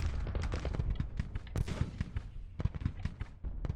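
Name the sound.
cannons firing in Civil War battle, Grand Tactician video game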